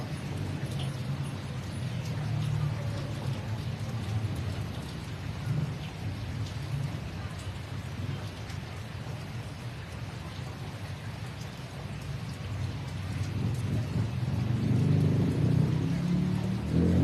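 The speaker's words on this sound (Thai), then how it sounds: "ฝนตกหนักเป็นอย่างยิ่งครับวันนี้" Heavy rain falls steadily with low rumbles of thunder throughout, the downpour and rumble swelling louder near the end, no one speaking.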